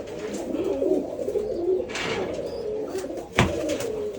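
Green pigeons coo in low, rolling phrases at moderate distance, joined near the end by a sharp, brief knock or flutter.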